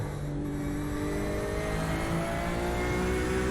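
A C8 Corvette's engine held at full throttle at Imola in a racing video game, a steady high-revving drone with slowly rising pitch, loud and continuous with no talk over it.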